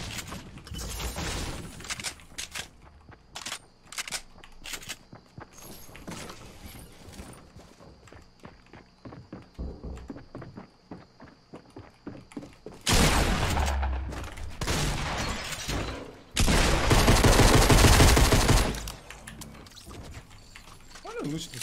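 Fortnite Battle Royale gunfire cracks out in quick bursts and rapid volleys, with a long, loud barrage toward the end, while a player talks excitedly over the game action.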